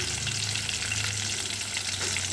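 Keema frying until golden makes a steady, close sizzle with a soft crackling hiss throughout the short stretch, with no voices over it.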